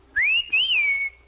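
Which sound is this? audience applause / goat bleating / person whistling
person whistling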